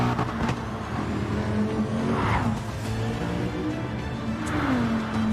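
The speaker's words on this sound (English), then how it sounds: "let's just actually watch some cars go around" Racing cars circle a track in the Infinity GT Manufacturer Series video game race, their engines droning continuously with rising and falling pitch and tires squealing as they pass, loud and steady throughout with no talk.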